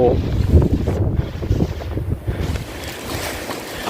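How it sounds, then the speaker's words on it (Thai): Strong wind roars and buffets the microphone during a rainy cold-season trail run in Thailand, loud gusts rising and easing over a few seconds. "ลมแรงมากครับ"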